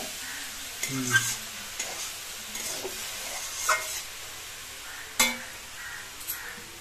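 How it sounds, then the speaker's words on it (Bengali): Cabbage and egg curry is stirred in a hot pan, with a soft sizzle under intermittent spoon scrapes and a few sharp metallic clinks against the pan. "আমরা মোটামুটি এটাকে 2-4 মিনিট নাড়াতে থাকবো"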